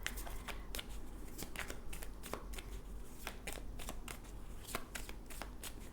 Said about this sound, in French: Je vais tirer une carte pour clarifier ça